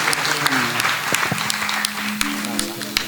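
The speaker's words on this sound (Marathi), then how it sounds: "जोरदार टाळ्या वाजवा देवासाठी." Energetic clapping from a church congregation at a Christian worship gathering, sharp claps over a background of voices and music filling the room.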